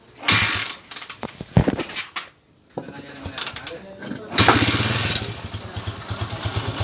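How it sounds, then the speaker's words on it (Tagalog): A Honda TMX 155 motorcycle, fresh from a new clutch damper, clutch lining and magneto oil seal, gives some short mechanical bursts and stops, then its engine starts and settles into a loud steady running drone, with voices nearby. "Itong motor niya, napaka-poging TMX 155 niya."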